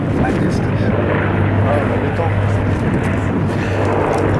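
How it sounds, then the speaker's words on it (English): An Avro Lancaster bomber roars past at an air show, a loud, steady propeller drone that fills the whole stretch. "Ladies and gentlemen, the bomber command. Here is your Lancaster."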